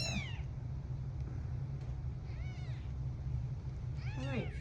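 A kitten meows in a high voice over a steady low hum during tube feeding at a feline rescue centre, with a short cry at the start, another midway and a louder run of rising, wavering meows near the end.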